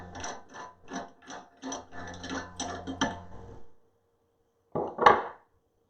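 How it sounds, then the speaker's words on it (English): Parts of a meat grinder clack and rattle as its grinder plate is swapped for a smaller one, with a run of close, quick metallic clicks and knocks, a pause, and then one louder clank. "I'm going to change the grinder plate to the smaller plate."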